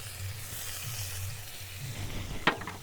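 Onions and garlic sizzle in hot oil in a village-style Bengali kitchen while taro bhorta is being made, a steady close hiss with one sharp crackling burst near the end and no talk.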